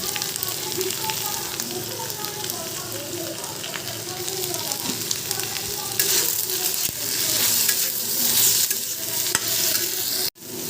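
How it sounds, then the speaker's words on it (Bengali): Vegetables fry in a pan with constant loud sizzling while a utensil stirs and scrapes through them, the frying growing brighter toward the end, with a sharp knock just before it cuts off. "এটা দিয়ে আমি ভালো করে নেড়ে নেব"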